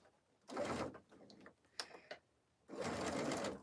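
A sewing machine stitches quilt fabric at a scant quarter-inch seam in two steady bursts, the first about a second long and the second longer, with a brief rattle of handling between them.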